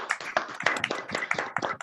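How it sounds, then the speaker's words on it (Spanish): An audience at an academic talk on cooperatives gives a short burst of applause, dense overlapping claps, fairly close and moderately loud, fading out after about two seconds. "un aplauso afectuoso a la compañera"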